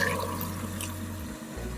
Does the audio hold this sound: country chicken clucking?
no